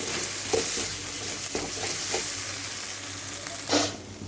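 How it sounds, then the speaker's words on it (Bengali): Spice paste with tomato and a little sugar sizzles steadily in a pan for a Bengali pabda fish curry, with a few sharp scraping stirs scattered throughout and a louder stir near the end, close and with no voices. "মশলাটা একদম ভালো করে ভাজা হয়ে গেছে"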